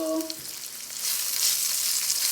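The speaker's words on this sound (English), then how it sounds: "I'll also add my onion to my pan" An onion drops into a hot pan on low heat and a bright, loud sizzle swells up, settling into a steady close frying hiss after a brief tonal clink at the start.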